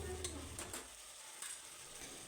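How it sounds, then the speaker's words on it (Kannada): Vegetables with ginger garlic paste fry in a pan, giving a soft, continuous sizzle broken by a few brief scraping stir strokes near the start and middle. "ಶುಂಠಿ ಬೆಳ್ಳುಳ್ಳಿಯ ಹಸಿ ವಾಸನೆ ಹೋಗುವವರೆಗೂ ಇದನ್ನು ಫ್ರೈ ಮಾಡ್ಕೋಬೇಕು."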